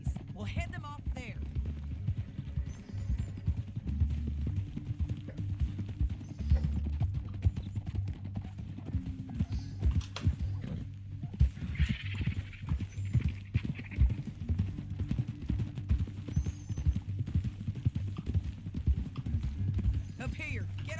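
Horse hooves clip-clop steadily in a Red Dead Redemption 2 canyon ride, a continuous rhythmic trot under music and a low drone, with an occasional whinny.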